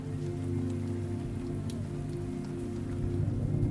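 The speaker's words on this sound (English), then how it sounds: "there's something very comforting about listening to the raindrops as they dance around" Steady rain falls on grass in a forest setting, an even, close, continuous patter with a low hum underneath and no voices.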